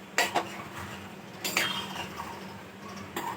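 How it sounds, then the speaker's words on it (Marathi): Butter being mixed into grated paneer in a pan, heard as a few distinct spoon scrapes and clinks against metal, separated by quiet pauses, close and fairly soft. "आता याच्यात टाकायचं तेवढं बटर आणि मग मिक्स करून घ्यायचं"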